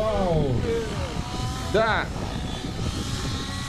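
A model helicopter flies over a grassy field at a Siberian fun-fly model aviation event, giving a steady whining rotor drone with a quick rising-and-falling pitch sweep as it passes, while someone speaks briefly.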